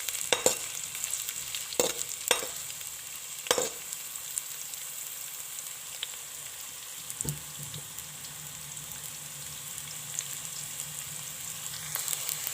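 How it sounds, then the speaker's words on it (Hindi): Carrots fry lightly in a pan for vegetable fried rice, giving a soft, steady sizzle with a few sharp stirring clicks near the start and now and then after. "कैरेट्स डालेंगे। हल्का सा फ्राई करेंगे इन्हें।"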